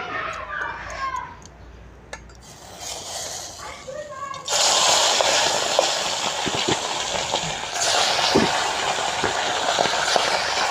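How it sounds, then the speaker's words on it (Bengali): Bhola fish rubbed with salt and turmeric drops into hot oil in a wok, and a loud, steady sizzling hiss takes over after a quieter opening with faint kitchen clatter. "তেলটা গরম হয়ে গেছে আমি এখন মাছটা দিয়ে দেব।"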